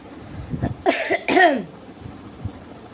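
A person coughs hard and close by: a short lead-in, then two loud, harsh bursts, with quiet stretches before and after.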